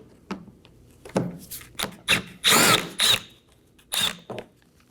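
A power drill spins out a 7mm screw from the bumper of a Chevrolet Equinox in a series of short, sharp whirring bursts with brief gaps, close and moderately loud, no talking.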